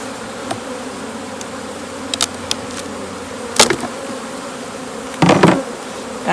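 Honeybees buzz steadily around open hives, a dense continuous insect drone filling the scene with a few louder close passes as bees fly near.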